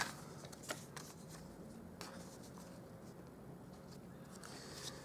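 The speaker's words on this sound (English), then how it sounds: "So I'll trim that down to about 3 3/4 inches." A paper trimmer slices cardstock for a handmade card, giving faint, close scraping and sliding swipes with a few soft clicks over quiet room noise.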